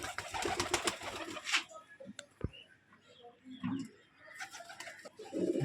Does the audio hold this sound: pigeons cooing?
yes